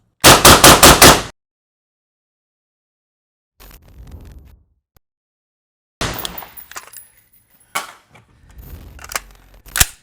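Rifle with an 11.5-inch barrel and a SOCOM 5.56 Mini 4 suppressor firing M193 5.56 ammunition: a fast string of about six sharp, loud, muffled shots at the start, then silence and fainter mechanical clatter and clinks.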